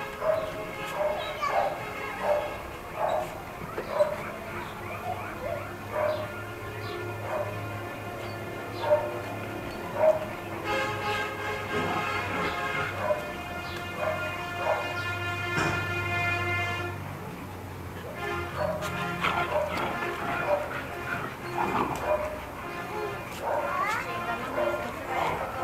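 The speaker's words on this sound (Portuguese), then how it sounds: "Não é porque os outros cachorros estão latindo que vocês vão latir, não." Several dogs, including a Doberman and pit bulls, bark and yip in scattered bursts at moderate distance while someone talks over them throughout.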